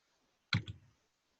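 A single mouse click in a quiet room, one short sharp tap with a faint second click right after, near and alone.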